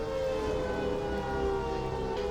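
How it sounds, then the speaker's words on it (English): Warning sirens going off at a Brotherhood of Steel settlement at Boston Airport in Fallout 4, a sustained droning wail of steady tones held at moderate volume throughout. "which causes the sirens to go off."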